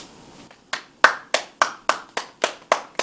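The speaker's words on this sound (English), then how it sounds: "Round of applause for that one." A few pairs of hands clap in an even rhythm, about nine sharp claps close by after a faint start, with no voices.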